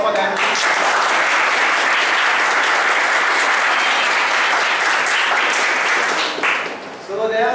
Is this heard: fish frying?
no